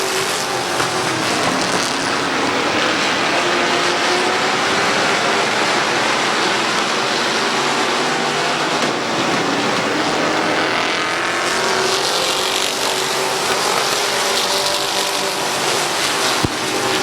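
Street stock race cars roar around the oval at Midvale Speedway during a 20-lap feature, a steady loud broadband engine wash that holds throughout with no pauses and swells slightly as the pack passes.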